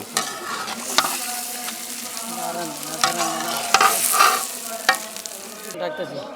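Three kilos of roast chicken with garlic sizzle loudly in a big cook's pot, with repeated ladle scrapes and knocks over a constant frying hiss and a faint hum beneath, ending abruptly.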